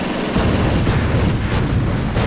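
Heavy gunfire and booming impacts pound a Vet 2 mortar half-track in a strategy game, a loud continuous barrage of overlapping shots and blasts with a few sharper bursts standing out.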